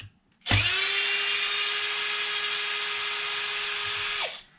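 A power drill whines steadily for about four seconds while unbolting the motor on a Traxxas Wide-Maxx RC truck, close and loud with a sharp start and stop.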